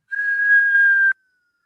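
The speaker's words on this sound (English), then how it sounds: "So whistle in." Breath drawn in through pursed lips during a breathing exercise makes a single steady whistle of about one second, close and clear, ending abruptly in silence.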